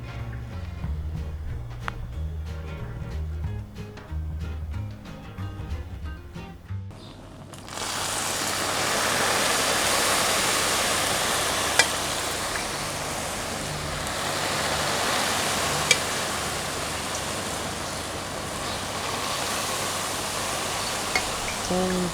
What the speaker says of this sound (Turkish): Şimdi şerbetini güzelce dökeceğim ama öncelikle sizden sessiz olmanızı istiyorum.